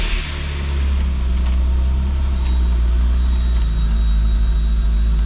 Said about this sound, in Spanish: Y escuchar el sonido del coche, vale, es que es boom, directamente, es como una bomba